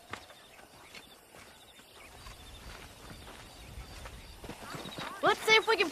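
Hoofbeats of horses in Red Dead Redemption clop along steadily under background talk, with a close, loud whinny and neighing bursting out near the end.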